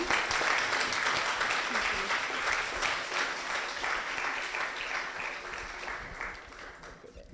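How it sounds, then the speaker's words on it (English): Sustained audience applause at a talk honoring speaker Stacy Johnson, a dense, even wash of many hands clapping that stays loud throughout and tapers slightly near the end. "Round of applause for Stacy Johnson."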